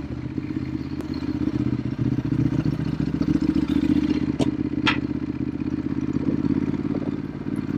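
Ducati Hypermotard motorcycle being ridden, a steady loud engine drone with constant low rumble and a couple of brief clicks or clatters.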